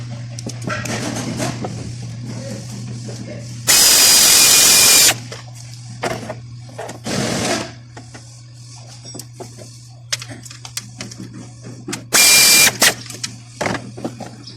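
A power tool drives a 10mm bolt into a car transmission control module during a repair, giving two loud bursts of about a second each, separated by quieter clanks, handling noises and a steady low hum.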